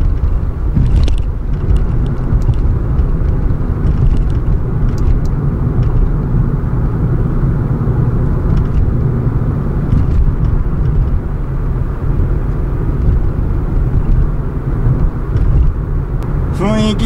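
Steady engine rumble and intake hiss from a Suzuki Swift Sport ZC33S fitted with a Zero-1000 power chamber continue near and loud from start to finish.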